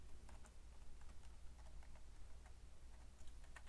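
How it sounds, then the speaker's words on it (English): Someone types a password on a computer keyboard, a quiet run of light, rapid key clicks under a steady low hum. "And then you want to type in the password."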